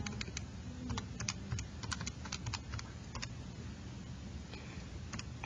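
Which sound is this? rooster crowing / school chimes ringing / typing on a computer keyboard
typing on a computer keyboard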